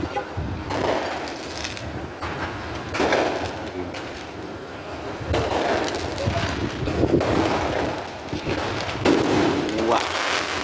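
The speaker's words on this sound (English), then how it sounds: "You can see the camera shot fireworks" Fourth of July fireworks exploding outdoors in a series of loud booms and crackling bursts spaced a second or two apart, with wind on the microphone and people talking and exclaiming between the blasts.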